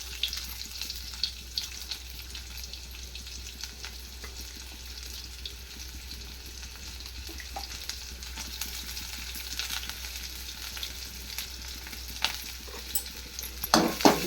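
A cup of onions frying in hot oil with cumin seeds for a wheat-flour snack: a continuous close sizzle with frequent stirring scrapes and small clicks, growing slightly louder toward the end.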